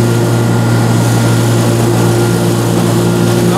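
A lawn mower engine runs while cutting grass at a 3.25-inch height, a loud, steady, close drone with a strong low hum that holds unbroken throughout, with no talking.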